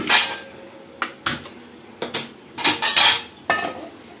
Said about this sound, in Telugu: మనం కర్రీకి కావాల్సిన బౌల్ అయితే పెట్టేసుకున్నాము స్టవ్ మీద